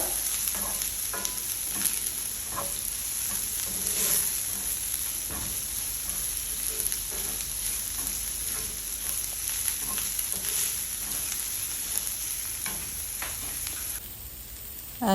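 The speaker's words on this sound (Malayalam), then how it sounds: "എന്നിട്ട് നമ്മൾ സവാള ആഡ് ചെയ്യും എന്നിട്ട് നന്നായിട്ട് സോട്ട് ചെയ്യുക" Onions and shallots sauté in a pan for a Kerala achinga payar and raw banana stir-fry, giving a continuous close sizzle with occasional spatula scrapes. The sound drops slightly near the end.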